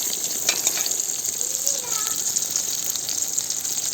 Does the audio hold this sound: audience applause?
no